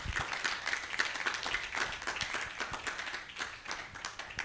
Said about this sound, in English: Great, a round of applause.